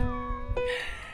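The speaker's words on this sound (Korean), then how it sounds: "여기 고양이가 뭐 많아요." A single cat meows with a drawn-out tonal cry, followed by a brief, higher, brighter mew, close by over faint room noise.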